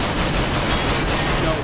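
Rapid, continuous gunfire from a multiplayer shooter game, a dense burst of shots filling the moment at steady loudness, with no clear gaps between rounds.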